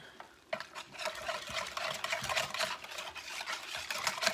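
Flour being stirred into French onion soup in a pot, a rapid run of wet stirring and spoon scrapes that starts after a brief quiet moment and keeps going, close and steady, no talking.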